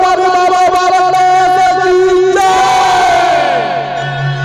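A large crowd at the Bodsara Dham fair of 2024 cheers and claps loudly, a dense roar rising over sustained, strongly tonal singing or music.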